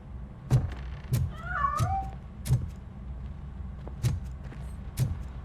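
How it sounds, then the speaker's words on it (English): Cat meowing in the video game RoboCop: Rogue City, a short wavering mew near the start, with soft repeated thuds and a low engine-like rumble underneath. "That cat must be hiding inside."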